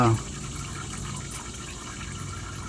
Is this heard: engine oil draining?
yes